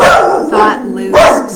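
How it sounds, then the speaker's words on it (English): A dog barks a few times in the background while a person keeps talking over it, the barks loud and close, blending into the speech. "sorry for the dog"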